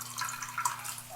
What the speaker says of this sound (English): what I'm swabbing it down with is water with just a little bit of fabric softener in it